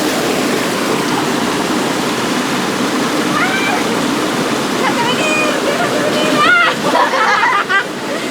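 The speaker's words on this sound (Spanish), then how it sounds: "Anda la cascada abajo." Waterfall on the Rio Grande pouring down over rocks, a loud, steady rushing roar of water that fills the whole scene, with a few faint high chirps and whistles rising over the flow near the end.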